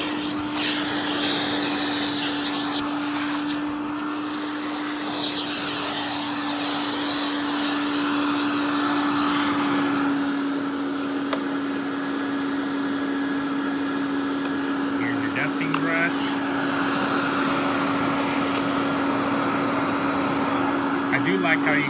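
A Royal Classic Power Team 4650 canister vacuum runs steadily throughout with its suction turned down, a constant close hum and airy whine with slight shifts as it is moved, while a person talks over it.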